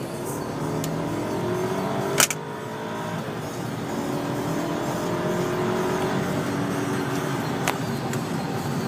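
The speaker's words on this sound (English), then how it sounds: "I'll give it some gas and you guys can see the power of the car" A 2007 BMW 550i in sport mode pulls hard under acceleration, its engine a steady, loud drone from inside the cabin with rising tonal whine, broken by a brief click near the start.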